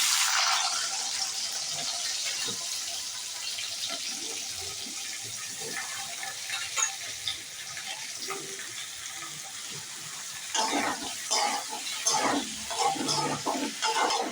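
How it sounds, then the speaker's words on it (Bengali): Mixed chopped potato, radish, eggplant and beans frying in oil, a bright steady sizzle with intermittent scraping and stirring clatter that grows busier toward the end. "সবজিগুলো দিয়ে আমি একটু নাড়তে থাকছি। সবজিগুলো কিছুক্ষণ ভেজে নেব"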